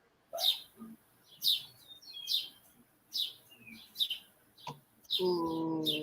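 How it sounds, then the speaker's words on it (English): Birds chirp outside a doorway in the morning, a series of short, bright tweets repeating about once a second, fairly close, ending with a longer warbling call and a low background murmur. "Hearing the birds. The birds are trying to come in the door."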